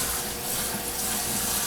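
Tap water runs steadily into a kitchen sink as rice is rinsed for an Italian chicken cacciatore, a close, continuous splashing rush with no talk over it.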